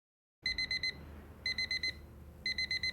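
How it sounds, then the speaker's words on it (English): An alarm clock going off in short bursts of rapid high beeps, three clusters repeating about once a second, clear and close over a faint background. "Your alarm's going off."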